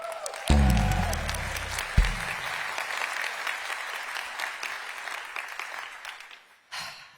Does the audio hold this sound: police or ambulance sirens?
no